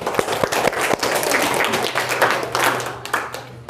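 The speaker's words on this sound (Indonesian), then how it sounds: "Beri tepuk tangan buat kelompok Nasruddin." A classroom of students claps for the Nasruddin student group: brisk, close clapping with a few sharp individual claps at the start, then a fuller, even patter throughout.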